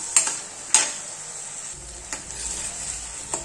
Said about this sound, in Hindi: देखिए तड़के को हमने बहुत ही अच्छे तरीके से भून लिया है।